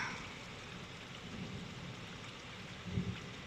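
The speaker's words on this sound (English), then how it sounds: "No, it's just rain." Steady rain pours during a nighttime thunderstorm, a broad continuous wash of drops with a low thunder rumble swelling near the end, no talking.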